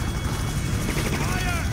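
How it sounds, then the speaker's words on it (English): A helicopter in Just Cause gives off a constant, loud rotor drone with a churning pulse, steady throughout without a break. "Where's this chopper?"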